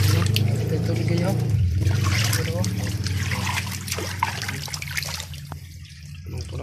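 Water streaming from a hose or tap into a backyard swimming pool, a steady splashing trickle that continues throughout while a person talks over it.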